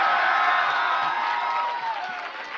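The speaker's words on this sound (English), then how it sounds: "Are you guys cheering for evil?" A magic show audience cheers and whoops loudly all at once, a dense wash of crowd noise with scattered clapping that fades slightly toward the end.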